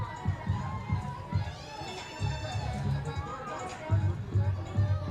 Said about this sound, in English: You've got the crowd out here, very lively on a Thursday night.